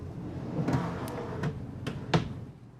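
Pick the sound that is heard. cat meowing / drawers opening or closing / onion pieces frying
drawers opening or closing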